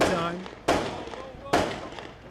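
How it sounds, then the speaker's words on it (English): Outgoing gunfire in a war zone: two sharp, distant-sounding blasts with long echoing decays, heard beneath a person talking and a faint tonal background. "Why is there all this gunfire? Those gunfires are part of outgoing gunfire."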